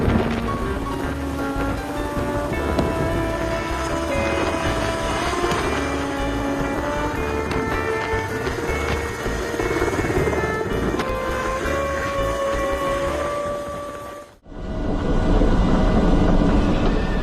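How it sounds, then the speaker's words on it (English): A helicopter drops off a sports car at the peak of a fort in Croatia, its rotor drone steady and loud for about fourteen seconds under music before a sudden cut to a different rumbling sound. "Watch as a helicopter drops off a sports car at the peak of a fort in Croatia."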